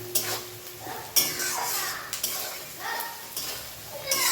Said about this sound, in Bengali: এবার আমি পেঁয়াজগুলোকে সুন্দর করে লাল লাল করে ভেজে নেব